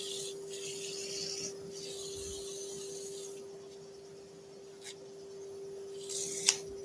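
Sanding wood by hand with 180 grit sandpaper for a heirloom Christmas carousel, a close dry rasping rub in long strokes with brief pauses, over a steady low hum and without talking.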